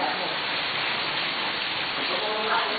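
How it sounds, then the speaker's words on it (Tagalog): Heavy rain pours down in a dense, even hiss that fills the whole stretch without a break. "it's raining very hard"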